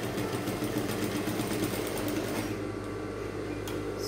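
A sewing machine hums steadily while sewing down a lacing bar, a continuous moderate motor drone that settles slightly quieter after a few seconds, with a brief click near the end.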